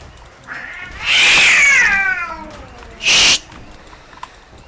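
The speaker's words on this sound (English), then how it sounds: "These cats, man, I swear. They just don't want to leave each other alone" Cats in the game Ark Survival Scorched Earth caterwauling at each other, one drawn-out yowl followed by a shorter sharp meow, close and loud against quiet background.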